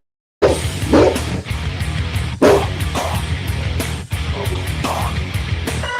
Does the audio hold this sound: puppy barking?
yes